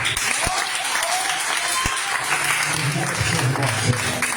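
Sustained congregational applause for the Lord during an evangelical church campaign service, an even roar of many hands lasting throughout, with a low voice briefly audible near the end.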